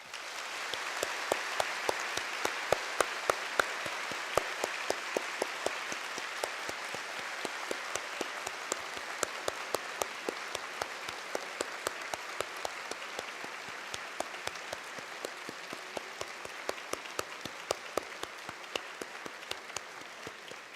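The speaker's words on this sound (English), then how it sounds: "they deserve a long, resounding applause" Long, sustained applause fills a hall at a bar passers' oath-taking ceremony, a dense, even wash of many hands clapping for about twenty seconds, with occasional sharper claps standing out near the front.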